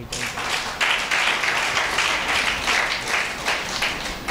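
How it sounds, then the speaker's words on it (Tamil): Audience clapping hands at a Tamil talk, a continuous, moderately loud patter of many hands that swells and holds steady for several seconds, with no voices over it. "கைத்தட்டு."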